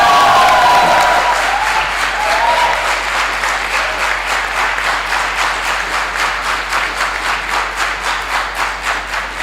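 A large crowd at a 2015 business school graduation ceremony on the Mohali campus bursts into loud applause with a few cheers, settling into rhythmic, unified clapping that slowly fades.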